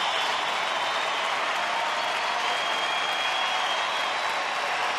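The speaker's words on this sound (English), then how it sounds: "this crowd getting into it, supporting Neil Cox and the Rangers." Baseball stadium crowd at a Rangers home game against the Angels cheering and applauding steadily, a dense continuous roar filling the ballpark.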